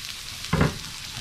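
Onions sauté in oil in a pan, giving a soft background sizzle broken by one brief louder burst of frying as they are stirred.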